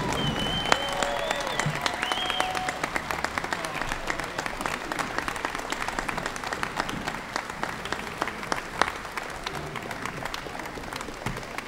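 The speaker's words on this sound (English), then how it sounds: "Let's have another nice round of applause for these teams and these wonderful individuals." Steady applause from a banquet audience at a sports hall of fame ceremony, dense clapping sustained at a moderate level for the whole stretch, with a few faint voices and whistles mixed in.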